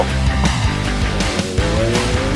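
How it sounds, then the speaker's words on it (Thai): A GAC AION Hyper SSR electric sports car launches hard from a standstill, a loud steady rush of road and tire roar with rising motor whine heard from inside the cabin. "แทบไม่ได้นับเลยว่าศูนย์นึงร้อยเมื่อกี้เท่าไหร่ มันวุบเดียวจริง"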